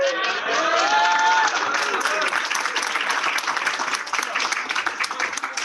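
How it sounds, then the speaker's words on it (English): Applause for parents at a cross-country team's end-of-year banquet, a steady, fairly loud wash of clapping with some cheering and voices mixed in. "Let's give a big round of applause"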